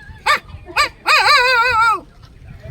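A man mimics a puppy: two short yelps, then a longer wavering whine, all close and fairly loud with no other talk.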